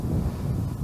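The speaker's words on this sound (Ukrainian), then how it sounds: "Вітер дує" Wind blowing steadily over an open river near Mar'yanivka and Tsehiv on a November day while fishing from a boat, a continuous low rumbling gust that buffets the microphone throughout, with no voices.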